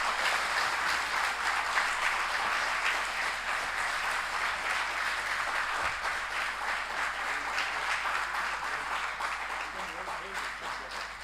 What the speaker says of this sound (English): Can we request a louder cheer from the audiences